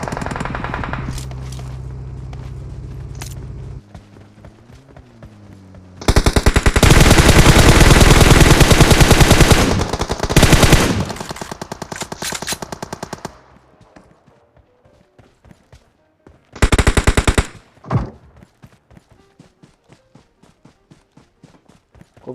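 Automatic rifle fire in PUBG Mobile: long loud sustained bursts followed by a shorter burst, close and harsh, with footsteps and quieter game sounds between the volleys.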